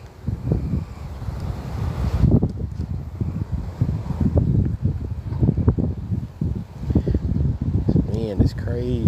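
Strong wind on a fishing outing buffets the microphone in loud, gusty low roars that surge and drop, with someone talking over it at times.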